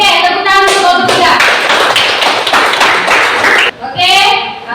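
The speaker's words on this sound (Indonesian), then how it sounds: "Oke, tepuk tangan untuk kelompok 3." Students in an Indonesian classroom clap loudly for a presenting group in a dense burst of applause, with a voice speaking before and after.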